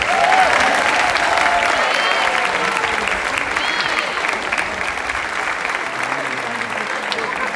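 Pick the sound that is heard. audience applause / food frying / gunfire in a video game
audience applause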